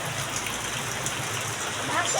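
Heavy typhoon rain pours steadily as a dense, continuous hiss that fills the scene, close and fairly loud with no clear breaks.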